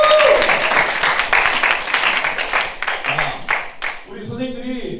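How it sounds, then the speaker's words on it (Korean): A school audience at a summer youth retreat applauds its teachers, a dense, loud wash of many hands clapping that carries on for several seconds, with voices starting to talk over the tail end. "선생님들께 박수 한번 줍시다."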